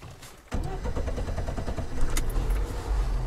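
A Lada Niva with self-locking differentials starts after its fuel is primed with the pump: after a brief quiet moment the engine catches abruptly and settles into a loud, close, steady rumbling idle.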